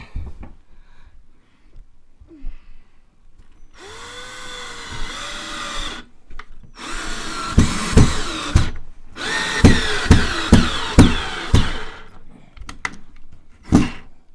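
A power drill drives the supplied bolts into a wall stud while a tilting TV wall mount is installed, with loud repeated whirring bursts and short pauses between them, close up, alone.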